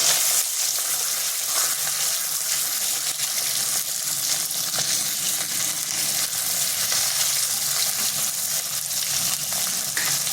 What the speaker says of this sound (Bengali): এরপর দিয়ে দিচ্ছি মাছগুলো।